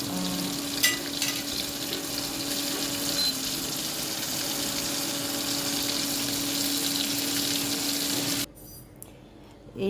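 Basa fish fillets fry in a pan with a steady, fairly loud sizzle and a faint electric hum beneath, running for most of the stretch before cutting off abruptly into near silence.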